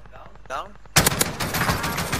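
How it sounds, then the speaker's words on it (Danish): Heavy gunfire in the video game Warzone erupts suddenly after a brief voice, a dense loud burst of rapid automatic shots continuing to the end. "Jeg ved ikke, hvor jeg bliver skudt fra."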